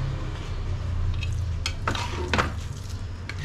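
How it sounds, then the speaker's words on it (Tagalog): Latik, the coconut curd, is stirred in a pan with a little oil over high heat, giving a low steady frying hiss with scattered scraping and clinking of a utensil against the pan. "Tapos medyo high fire po siya. At diretso halo lang po tayo."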